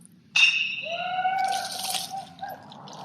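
Liquid poured out as a libation during an Indigenous Peoples Day remembrance, a sudden trickle and splash with rising ringing tones, as if filling a glass or vessel, close and fairly quiet, fading near the end.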